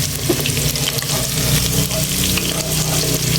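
Banana heart sautéing in a hot pan gives a steady, loud sizzle and crackle of frying throughout, with no voices.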